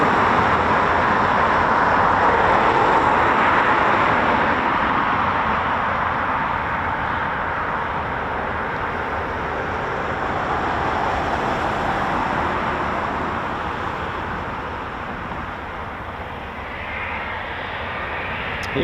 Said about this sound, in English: another Typhoon taxiing out for departure, I think. So this is a tranche 3.